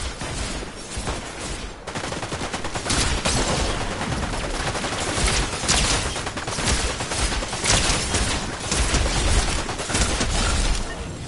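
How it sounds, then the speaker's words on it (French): Heavy gunfire in Fortnite Chapter 5 Season 2, a loud continuous barrage of overlapping shots from several weapons with no pauses throughout. "Oh, on tire dessus."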